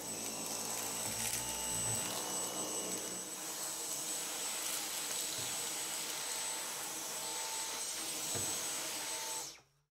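A Dyson Cyclone V10 cordless vacuum cleaner runs with a steady high-pitched whine and airy motor roar, close and constant, before cutting off abruptly at the end.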